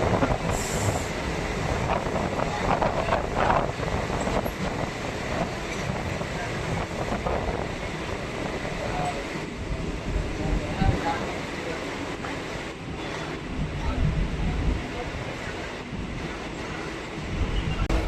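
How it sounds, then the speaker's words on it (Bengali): A local train at Hridaypur railway station, between Madhyamgram and Barasat on the Dumdum Cantt to Barasat line, rumbles steadily and loudly throughout, with wind buffeting the microphone and a voice talking over it. "এই হচ্ছে হৃদয়পুর রেলওয়ে স্টেশন।"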